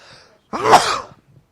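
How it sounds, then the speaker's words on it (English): A single loud, close sneeze bursts out after a quiet moment, sharp and forceful, then fades. "I'm getting ready to sneeze"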